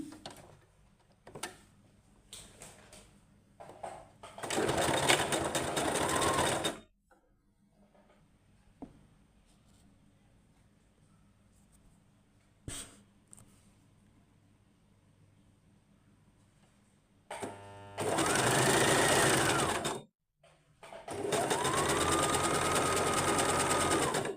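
A sewing machine stitches a folded fabric piece in a tailoring lesson, with three loud, steady whirring bursts of several seconds each separated by quiet gaps holding faint clicks and handling sounds.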